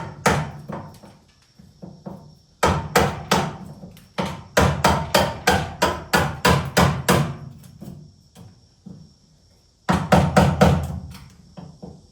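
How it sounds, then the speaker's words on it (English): Repeated sharp metallic hammer blows on a chisel, in bursts of steady rhythmic strikes with short pauses between groups, close and loud. "I can use a chisel and a hammer and have the same effect"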